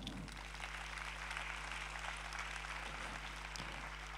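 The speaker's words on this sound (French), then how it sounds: "on peut faire un petit coup d'applaudissement" Applause from the audience at a film festival closing ceremony, a soft, distant-sounding patter of clapping over a steady low hum throughout.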